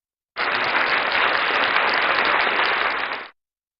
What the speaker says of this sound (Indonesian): Kasih tepuk tangan dulu dong.